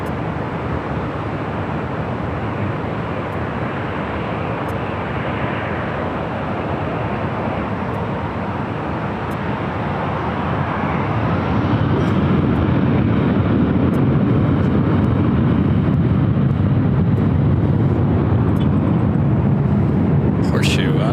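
A Delta airliner takes off from LAX runway 24 left. A broad, distant jet roar swells and grows louder and deeper about halfway through, then holds as a steady rumble.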